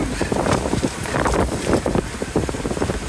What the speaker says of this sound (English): So the wind picked up on Mobile Bay